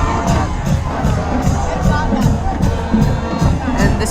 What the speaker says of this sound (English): The rowdy crowd really getting into this one, hoping for a touchdown